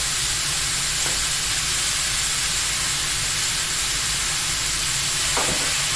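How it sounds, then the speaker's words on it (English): Ground beef browns in a pan with salt, pepper and garlic powder, giving a steady, loud broadband sizzle throughout, with a couple of brief scraping stirs near the start and end. "I'm just going to stir that around and mix the spices together and let the ground beef brown all over"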